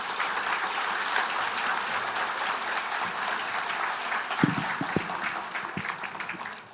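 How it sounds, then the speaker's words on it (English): An audience at a candidate forum claps, with steady applause filling the room throughout. A few louder individual claps stand out near the end as the clapping thins. "let's give them a round of applause"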